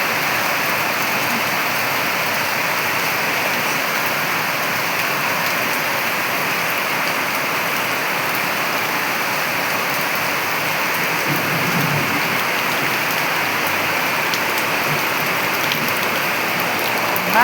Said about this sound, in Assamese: ইমানে বৰষুণ দিছে, ইমানেই বৰষুণ দিছে